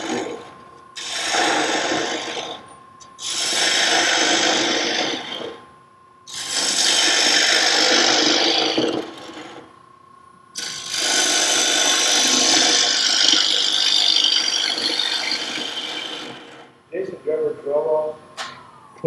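Wood lathe hollowing out a side-grain wooden box: loud rasping cuts in long passes separated by brief pauses, with a steady motor hum beneath and a few short scrapes at the end.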